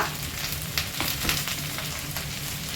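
A pan of moringa drumstick curry ingredients sizzles and fries steadily, a dense continuous crackle with a few brief clinks, close and fairly loud with no voices.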